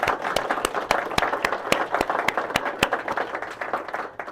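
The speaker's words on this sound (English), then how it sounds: "can we give a round of applause to Linda for that extraordinary introduction" An audience at a talk on home history research breaks into applause, with many hands clapping in a brisk, even burst that stays loud and close throughout.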